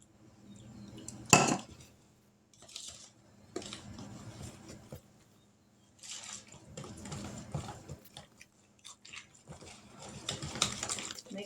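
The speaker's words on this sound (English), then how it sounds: "Mix this up real good." Batter and milk being mixed in a bowl with a utensil for a cherry cobbler, giving close clinking and scraping strokes in bursts separated by short pauses, with no talking.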